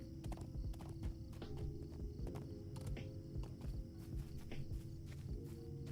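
Steady clip-clop of horse hooves in a video game, a continuous walking rhythm of hoof strikes over a busy background of ambient game sounds, fairly quiet and without talk.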